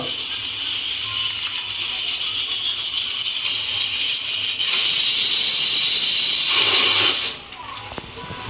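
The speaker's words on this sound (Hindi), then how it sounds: "कुकर भी सीटी मारदे" A loud, continuous hiss of escaping steam from a pressure cooker whistle, steady for several seconds before cutting off abruptly.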